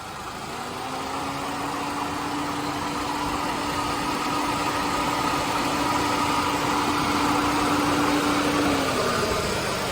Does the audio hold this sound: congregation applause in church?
no